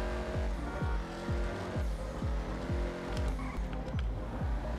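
Vapid Dominator GTX muscle car in GTA 5 driven fast, its engine roaring loudly and steadily with repeated gear-shift drops in pitch roughly every half second as it accelerates, no talk over it.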